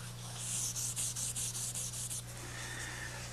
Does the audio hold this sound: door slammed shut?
no